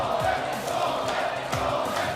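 A Brawl Stars World Finals esports arena crowd roars on without a break, a dense wash of cheering and shouting with a few sharper peaks.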